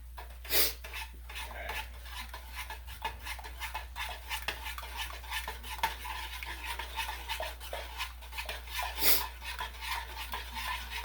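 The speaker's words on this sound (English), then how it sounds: "Give a bit of a stir, it ain't gonna be much." Spoon scraping and knocking in a pot of homemade BBQ sauce, a steady run of soft scrapes and taps through the stir, with a couple of sharper clanks along the way and no talking.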